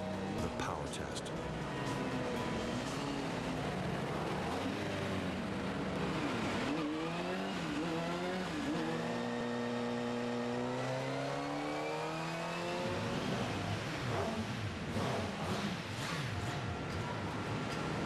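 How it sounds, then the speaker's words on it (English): A new Kawasaki motorcycle engine runs during its first start and power test on a factory line, its pitch rising and falling through steady revs at a moderate distance, with a voice talking over it. "They fire up the engine for the first time, letting it warm up before the very last step, the power test."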